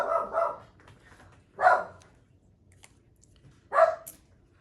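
A dog barks three times, single loud woofs with pauses between, nearby in a quiet indoor room.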